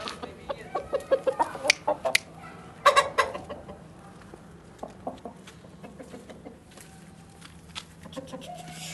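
An Aseel rooster clucks in a rapid series of short, close, fairly loud calls, then more scattered clucks over farmyard background noise.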